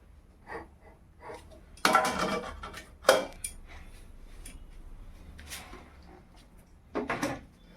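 A pot of rice is set down on a stove, with a sharp clatter of metal and a second bump following a few soft kitchen knocks, then a last rattle near the end.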